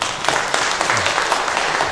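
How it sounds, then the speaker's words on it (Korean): A church congregation applauds a guest missionary during a Sunday worship service, a dense steady spread of clapping filling the room for a couple of seconds without any voices on top. "저희 박수로 환영하겠습니다."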